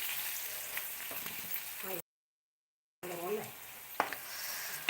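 Beef roast frying with curry leaves in a pan, stirred during a live home-cooking stream; close sizzling and spoon scraping broken by a second of total silence, with a voice briefly audible over the frying.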